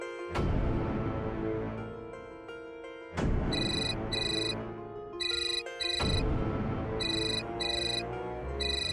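A mobile phone ringtone for an incoming call plays loud and close as a repeating electronic melody, with bright beeping chime phrases that restart in cycles and no talk.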